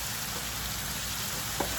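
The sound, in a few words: sausage sizzling as it is added to the pot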